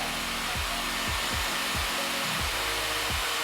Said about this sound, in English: Now I'm just going to put the cool effect on, and it's throwing cooler air on my hair.